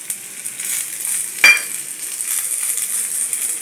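Telugu dal tempering, with curry leaves frying in hot oil, gives a soft steady sizzle with one brief sharp metallic clink midway, quiet and close.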